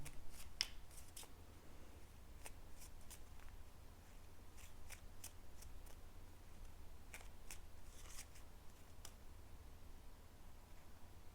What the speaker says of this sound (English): All right, let's put some Lenormand cards out for you.